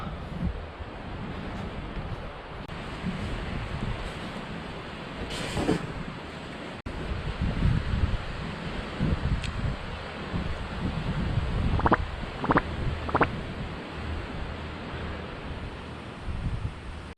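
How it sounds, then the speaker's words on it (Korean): Strong wind on a 159 m mountain summit among trees, a continuous rushing buffet against the microphone with gusts rising and falling, and a few faint brief clicks and knocks nearby. "오늘 바람 굉장히 많이 불고 있는데"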